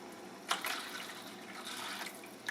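Water pours into a cooking pot while making lemon pepper chicken leg quarters over peppered yellow rice, a faint steady splashing and trickling with a couple of brief clinks, and no talking.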